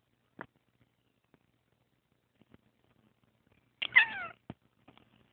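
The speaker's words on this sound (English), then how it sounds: "Meow, Tinkerbell. If your name is Tinkerbell, then meow." A cat gives one clear meow partway through, fairly close but soft, surrounded by near silence and a few faint clicks and taps.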